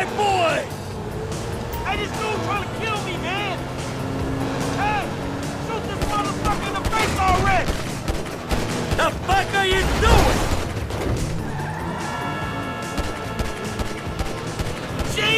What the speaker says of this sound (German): es ist nicht so ganz einfach, aus dem Auto raus zu schießen